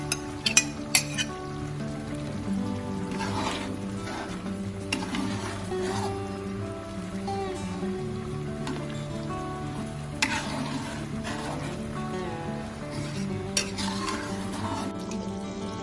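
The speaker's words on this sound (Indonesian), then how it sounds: "kita masukkan kelapa yang sudah saya sangrai dan dihaluskan ya" Ground toasted coconut being stirred into simmering beef rendang in coconut milk, a steady close sizzle and bubbling with occasional scrapes and clinks of a utensil against the pan.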